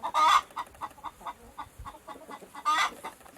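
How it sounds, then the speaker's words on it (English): A hen clucks in short repeated bursts, with louder squawks at the start and end and softer rhythmic clucks between, close and fairly quiet with no talk. "H for hen."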